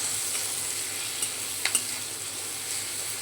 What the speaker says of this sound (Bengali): আলুটা দিয়ে দিলাম। আলুটা এর সঙ্গে মিশিয়ে দেব।